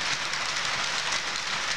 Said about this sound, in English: there's Conrail train number 1